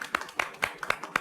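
A handful of people clapping in a TV drama scene, sparse individual claps at an irregular pace, close and fairly distinct rather than a full crowd applause.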